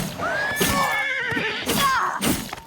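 A horse in the video game Elder Scrolls: Oblivion neighs twice, loud and close, each whinny a wavering high call, with faint hoof clops between and no talk.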